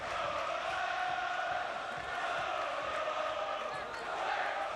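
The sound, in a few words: football stadium crowd noise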